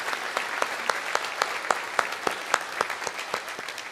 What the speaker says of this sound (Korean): 우리 두 분을 위해서 박수로 환영합니다